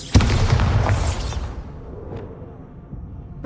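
A Bombarda blasting spell is cast in Hogwarts Legacy, giving one loud, near boom with a whooshing burst that fades over a couple of seconds into quiet room tone.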